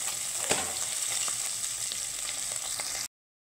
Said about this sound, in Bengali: চারটে চারটে করে আমি মাছগুলো ভেজে নেব।